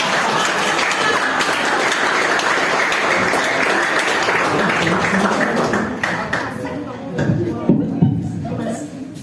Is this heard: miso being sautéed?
no